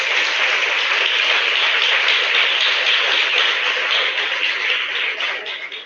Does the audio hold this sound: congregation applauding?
yes